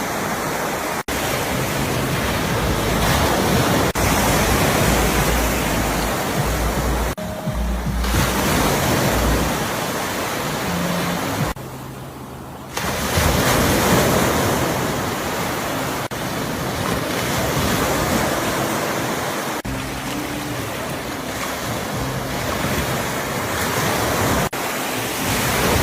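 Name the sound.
ocean waves breaking on the shore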